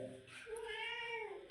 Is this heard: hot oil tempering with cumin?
no